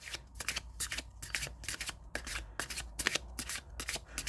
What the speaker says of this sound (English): So let's try shuffling.